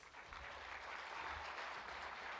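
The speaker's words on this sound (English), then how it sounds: "I think you can give yourselves an even bigger round of applause." Steady, dense applause from a crowd at a scholarship fund's tenth anniversary celebration, clapping continuously at an even loudness throughout.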